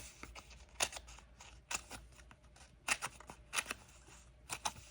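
Scissors cut along the edge of a dimensional sheet for a paper craft, several short, faint snips and crisp paper sounds in an uneven rhythm.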